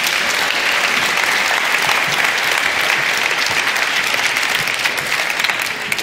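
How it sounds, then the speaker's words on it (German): Loud, sustained applause from a live audience filling the room for the full stretch, steady dense clapping with no talk over it. "herzlichen Klatscher bitte"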